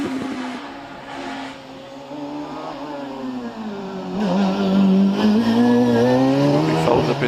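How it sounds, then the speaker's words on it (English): A 1990s Reynard 913 Formula 3 race car blasts up the Prescott hillclimb, its engine note rising and falling through gear changes and growing louder as it nears, with no voices over it. "Trisha Davis now is in the Reynard 913"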